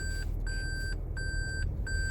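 A repeating electronic beep, likely a device alert, sounds in a steady series of about five evenly spaced tones over low rumbling noise, with no talk.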